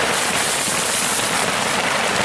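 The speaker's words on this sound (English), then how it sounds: "it is raining a whole lot more now" Heavy rain pouring steadily on a small camping shelter at night, a dense, loud, unbroken hiss with no voices.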